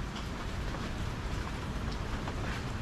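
Steady rain falls in a dense, even hiss, with scattered drops pattering on a nearby surface.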